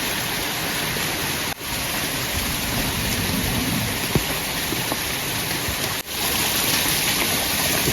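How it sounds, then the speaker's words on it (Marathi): Light rain falls at a night campsite on a hillside in a constant, wide hiss, fairly loud and unbroken, with a couple of brief dips in the sound. "पाऊस तर चालू आहे बारीक बारीक"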